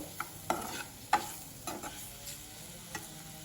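Capsicum coated in gram flour batter fries in a pan while a spatula stirs it, giving soft scrapes and a few sharper knocks over a steady low sizzle, close by with no voices.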